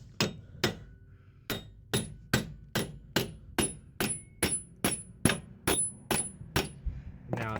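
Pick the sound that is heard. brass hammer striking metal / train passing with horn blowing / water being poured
brass hammer striking metal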